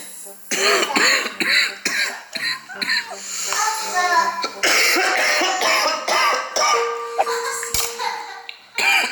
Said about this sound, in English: Babe, why you coughing like that?